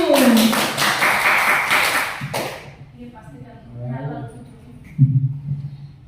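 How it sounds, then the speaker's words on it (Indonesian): Teachers at a school gathering get a burst of clapping lasting about two seconds, dense and fairly close. It stops abruptly, and a few taps and thuds follow with faint voices. "Tepuk tangan untuk Bapak Ibu guru"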